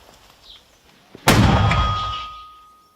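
A single loud, sharp blast of an MP-120 mortar shot rings out nearby, its deep boom trailing off in a long echo after a moment of quiet.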